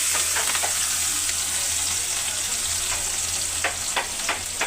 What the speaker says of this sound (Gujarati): વઘાર થઈ રહ્યો છે